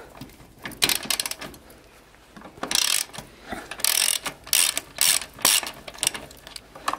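A ratchet wrench clicks rapidly while undoing a nut on a Honda Hobbit PA50 II moped engine. Bursts of sharp, close ratcheting come in quick runs, separated by pauses and small metallic handling noises.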